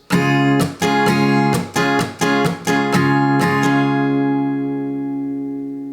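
Electric guitar power chords strummed in a choppy rhythm, a burst of quick strokes with short gaps, then a final chord left to ring out and fade.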